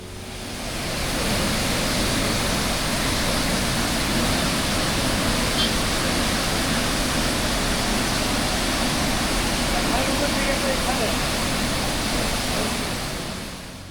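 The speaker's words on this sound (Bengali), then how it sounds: "দেখুন জলটা কিভাবে বেরোচ্ছে দেখুন শুধু বেরোনোর ফ্লোটা অর্থাৎ গতিবেগটা দেখুন" Water gushing out strongly at an outdoor site in Jharkhand, a loud, dense, unbroken roar of rushing flow held steady throughout.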